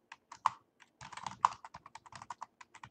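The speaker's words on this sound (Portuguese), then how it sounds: "Digitando assim." Rapid typing on a computer keyboard, close and clear, with irregular bursts of key clicks and brief pauses between words, no voices.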